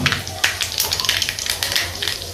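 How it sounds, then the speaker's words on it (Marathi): Mustard seeds and cumin sizzling in hot oil in a kadhai, a steady close crackle with scattered sharp pops and spits running throughout. "कढई गरम तेल गरम झालंय मोहरी टाकते थोडी जिरे टाकते"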